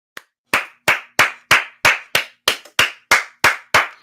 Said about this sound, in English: I got to give a round of applause to the Asian community.